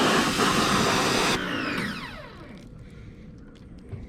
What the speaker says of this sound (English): it's not the most powerfulest pressure washer in the world, but it's better than just using a hose by itself